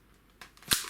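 A Nerf blaster fires a Zombie Strike foam dart with a single sharp pop and snap, preceded by a quieter click of the mechanism being primed, close and fairly loud with no talk.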